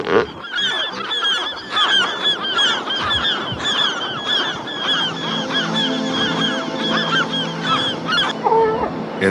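Gulls calling on an elephant seal birthing beach, a loud continuous chorus of overlapping harsh squawks and cries with no pauses, close and dense throughout.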